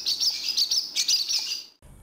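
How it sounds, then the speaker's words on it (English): A small red bird chirps in a sunny garden meadow, a quick run of bright, close tweets repeating for almost two seconds before breaking off, with no talk over it. "A little red bird flew up to a tree."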